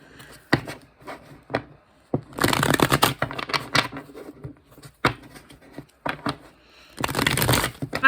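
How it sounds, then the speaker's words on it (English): Tarot cards shuffled by hand in bursts of dense riffling and papery flutter, separated by sharp taps and single card snaps, close and fairly loud, with no voices. "So let me shuffle the cards."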